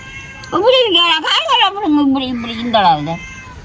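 A cat gives one long, loud, close meow that rises, wavers and trails down, ending in a shorter follow-up cry.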